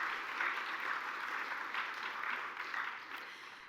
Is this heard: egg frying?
no